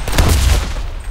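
Explosion and gunfire in the video game CRSED: Cuisine Royale burst out loud and close, a heavy low boom with a rumbling rapid crackle of shots that fades over about a second.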